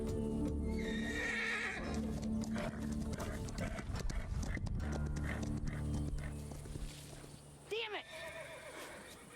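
Horses whinny and neigh loudly up close, with hooves clip-clopping underneath and a sharp neigh near the end; a TV show's dialogue runs underneath.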